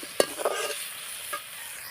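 Chili, tomato and onion are sautéed in a pan: a sharp utensil scrape, a couple of clatters, then a faint sizzle with one more soft stir, and no talking.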